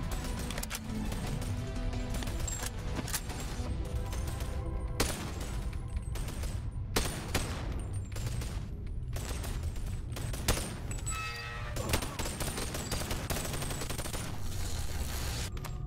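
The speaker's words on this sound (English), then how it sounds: "How am I getting damaged here? What is this game? It's a stupid turret." Turret gunfire in the VR video game Boneworks, a dense, continuous barrage of rapid shots that runs throughout at a loud, steady level, with no clear talk over it.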